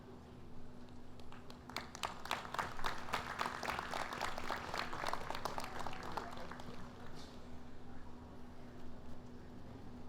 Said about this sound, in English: let's give a round of applause to Tribal Chief Cyrus Ben